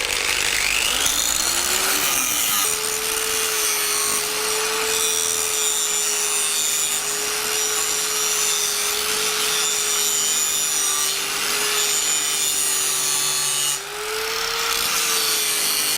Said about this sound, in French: la meuleuse attaque fortement le métal